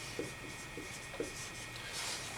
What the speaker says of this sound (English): I should write that down